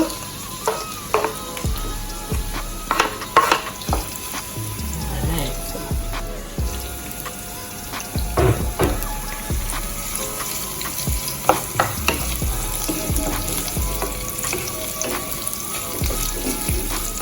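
Onion, garlic and scallion frying in a pan, a steady sizzle with repeated clanks and scrapes of stirring throughout, plus faint running-water sounds in the background.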